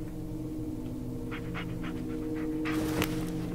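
A dog in the Blair Witch video game pants in quick soft breaths, close but faint over a steady low droning ambience, followed by a brief rustle.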